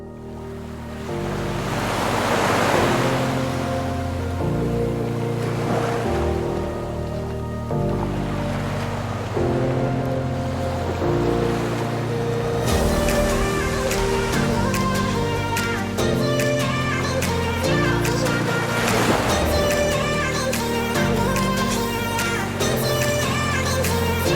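Ocean surf rolls onto the beach at Mirissa, Sri Lanka, in front of a hotel, a continuous wash of breaking waves heard under a steady bed of music.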